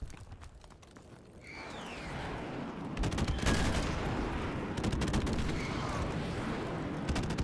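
Rapid gunfire in the video game Modern Warfare Remastered, dense rattling bursts that build into sustained loud shooting with sharp cracks.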